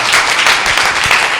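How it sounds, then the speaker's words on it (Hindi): A church meeting hall in Ellenabad fills with loud, sustained applause as a congregation welcomes Pastor Daniel Raj, a dense wash of clapping with no speech over it. "जोरदार ताली हो जानी चाहिए।"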